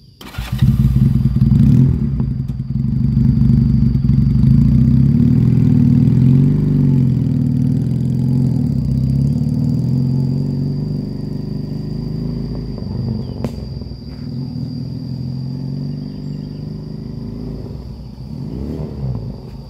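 A motorcycle engine started with the electric starter and left running, a steady loud close idle with a rough mid-range rumble that eases slightly in level toward the end, with a single sharp click partway through.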